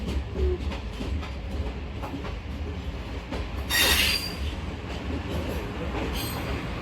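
A Pakistani passenger train hauled by a ZCU-20 locomotive rolls past, a continuous low rumble of wheels and carriages with a brief, bright burst of wheel squeal midway, fairly distant and steady.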